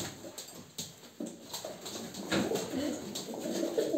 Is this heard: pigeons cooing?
yes